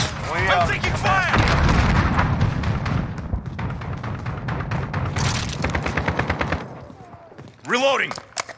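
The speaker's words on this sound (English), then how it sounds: "I'm taking fire!" Rapid gunfire and heavy explosive booms fill a Call of Duty Modern Warfare Team Deathmatch match, with an AS Val rifle and 725 shotgun in use; dense, loud bursts run throughout while a voice talks over the shooting.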